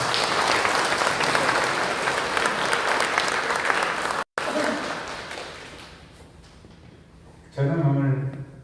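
Loud, dense applause from an audience at a Korean humanities lecture, welcoming a Rotary Club district governor, fills the first half, then thins and fades before a burst of speech takes over near the end.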